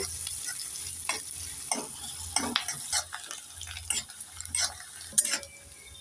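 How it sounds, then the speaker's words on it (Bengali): Onions frying in a pan while being stirred, a soft steady sizzle broken by repeated scraping strokes of a spoon against the pan, close and with no talking. "নেড়ে চেড়ে পেঁয়াজটাকে লাল লাল করে ভেজে নেব"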